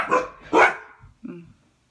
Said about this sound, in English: The dogs are in my room.